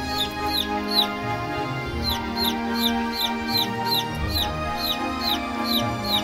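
A three-day-old chick chirps in a quick, steady series of high peeps, repeating roughly twice a second, close and clear over a low background hum.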